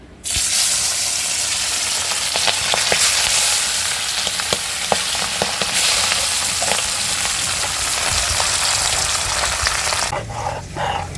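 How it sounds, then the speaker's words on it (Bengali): Pabda fish dropped into a hot wok sets off a loud, continuous close-up sizzle that holds steady for several seconds before cutting off near the end. "কড়াইটা গরম হয়ে গেছে, এবার মাছটা ছাইড়ে দিতেছি।"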